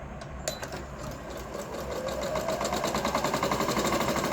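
A Singer Monami SC200 domestic sewing machine running a straight stitch at full speed, its rapid needle chatter rising after a brief start and holding a steady, fast mechanical rhythm close by with no talking.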